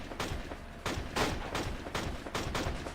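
A Gewehr 41 rifle firing in a video game: a series of sharp, loud shots in a steady rhythm, about one every half second, over a constant battlefield background.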